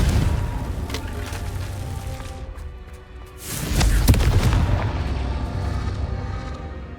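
A Confringo blasting spell goes off in Hogwarts Legacy, a deep booming explosion that swells midway and rumbles on with a long heavy tail over the game's ambient sound.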